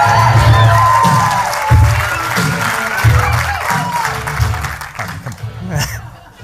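A live audience at a San Diego conference event whoops and cheers over dense, sustained applause, loud and close throughout, with voices mixed into the crowd noise that thins out toward the end.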